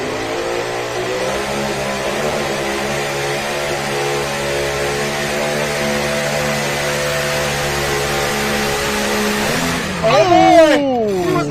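Supercharged drag racing car revving hard at a Chapel Hill drag strip, steady loud engine harmonics that break near the end as the blower pulley fails, pitch sliding and sputtering; a commentator's voice runs underneath.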